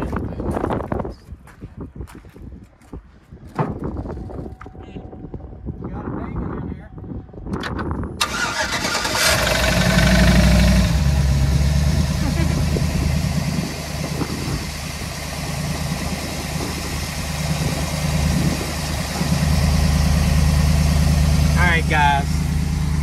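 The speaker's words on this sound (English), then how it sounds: "It's no trouble turning these engines." A vehicle engine cranks and fires up using a JFEGWO 6,000 amp jump starter, with scattered handling clicks and knocks before it catches, then settles into a loud, steady idle that runs close by to the end.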